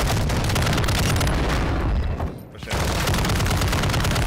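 Dense, continuous video game gunfire and explosions in a Call of Duty Al Mazrah battle, loud and chaotic with a brief dip in the middle before the barrage resumes.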